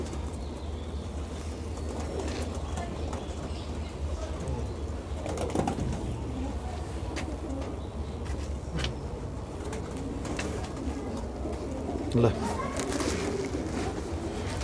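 Pigeons kept by a Haryana pigeon fancier coo softly at a moderate distance, a low steady murmur running through the whole stretch with occasional flutters, under ongoing talk.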